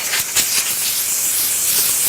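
Compressed air blasting from a nozzle to dry a car tire, a loud steady hiss with a few brief bursts at the start, continuous and close.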